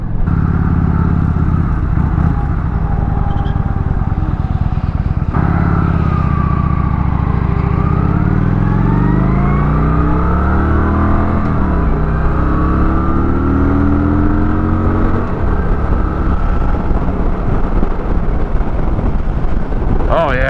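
Kawasaki Vulcan 900 Classic cruiser rumbling along at low RPM, recorded up close while riding. The engine drones loud and steady, its pitch sliding up and down with throttle changes under constant wind buffeting.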